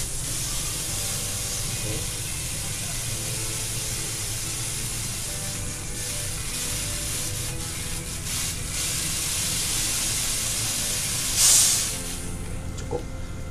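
Gas hissing steadily and loudly as a portable butane canister, refilled from an LPG tank, is emptied. The hiss holds unbroken for the whole stretch, with a brief spoken word partway through.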